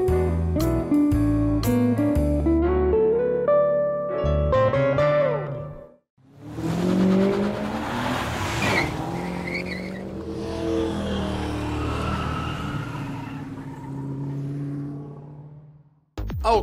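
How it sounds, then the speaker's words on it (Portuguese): A Honda Civic with a 1.5 turbo engine on a test drive: music plays first, then loud, continuous engine roar and road noise with what may be tire squeal carry through the rest. "Então tá aí o test drive do nosso Super Honda, o Honda Civic, né? O motor turbo."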